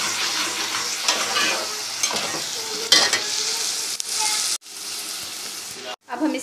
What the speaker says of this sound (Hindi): लहसुन डाल दिया है, अब हम इसको भून लेंगे।